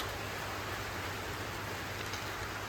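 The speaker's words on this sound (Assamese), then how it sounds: "এয়া বৰষুণ আহিছে," Rain falling outdoors in the early morning, a steady, even hiss of drops with no breaks, fairly faint and without talk.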